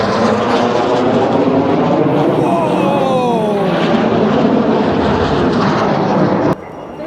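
Two aircraft of a synchro pair sweep past at an Armed Forces Day air display, a loud sustained engine roar with rising and falling pitch as they pass close, crowd murmur beneath, then cutting out abruptly near the end.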